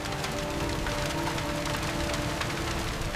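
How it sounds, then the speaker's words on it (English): Dense, steady rainfall hisses evenly throughout, a constant wash of drops on a surface with no pauses, standing in for liquid metal rain on a deadly exoplanet. "temperatures drop enough for it to condense and fall as liquid metal rain"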